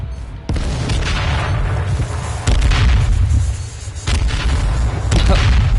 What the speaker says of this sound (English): look at that grenade!